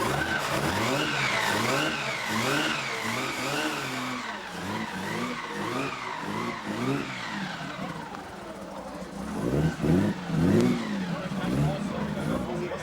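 A supercharged 1.75-litre 1935 Riley MPH prototype runs with a misfiring, uneven engine note, revving up and down in rising and falling sweeps, fairly loud and close with other engine noise.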